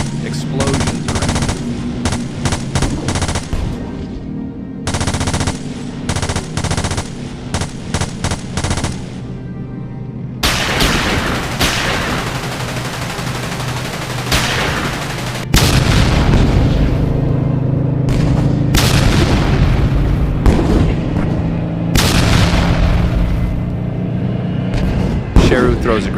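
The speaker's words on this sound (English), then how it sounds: "Terrorists with masked faces charging, firing AK-47. Sheru dodges bullets, turns fire with his rifle. Explosions around." Animated battle scene with masked terrorists firing AK-47 rifles and a soldier returning fire: loud, dense bursts of automatic gunfire alternate with heavy booming explosions, continuous and close throughout.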